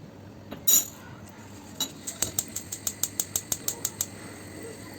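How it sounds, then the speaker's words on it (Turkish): A whisk beats milk, egg, sugar and flour in a pot on the stove for a roll cake filling, a rapid run of even metallic clinks against the pot after one louder knock, close and clear. "Çırpıcıyı hiç bırakmıyoruz bu arada sürekli karıştırarak çırpıyoruz"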